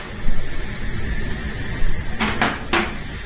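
Lamb stock at a rolling boil, a steady bubbling hiss close by, with a couple of short clattering bursts near the end like a pot or lid being touched.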